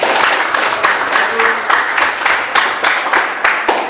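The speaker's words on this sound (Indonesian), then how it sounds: "Tepuk tangan dulu ini." Hands clapping in a classroom, a steady burst of applause from a group of students with rhythmic peaks, fairly close and loud throughout.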